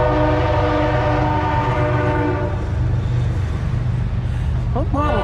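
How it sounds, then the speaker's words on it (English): A train passes close by with a loud, sustained horn blast over a heavy rolling rumble. The horn fades into steady rail noise, and a voice briefly breaks in near the end. "You hear that train?"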